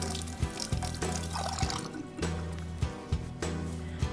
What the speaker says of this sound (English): let me rinse my fingers off a little bit.